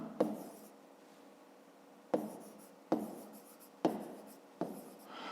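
Pen writing on paper during a fifth-grade math exercise: a few short scratchy strokes in irregular bursts, close and quiet, with no talking.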